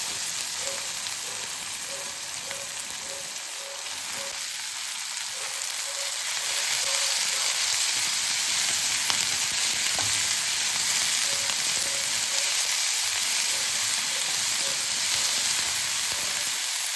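Spinach sautéing in a pan for keerai poriyal, a steady loud sizzle and hiss that runs throughout, with faint stirring scrapes and a slight swell partway through.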